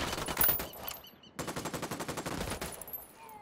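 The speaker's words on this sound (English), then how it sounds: "I'm opening fire on these shitheads." Rapid automatic gunfire in the video game Ghost Recon Wildlands, a loud close burst followed by a longer sustained stream of shots, then tapering off.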